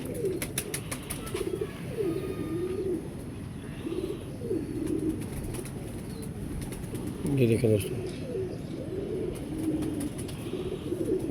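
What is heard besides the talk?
Indian pigeon cooing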